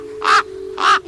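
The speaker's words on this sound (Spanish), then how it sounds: "pronunció el grito de Cuervo" Two loud, harsh raven caws ring out one after another about half a second apart, close and clear over a low steady hum, with no talking.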